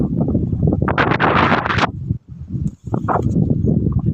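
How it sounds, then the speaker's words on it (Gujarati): Strong wind gusting at Kadana Dam, roaring close against the microphone in loud broadband buffeting that surges hardest in the first half, drops briefly, then returns. "અહીંયા પવન પણ એટલો મસ્ત આવે છે જોર જોરથી"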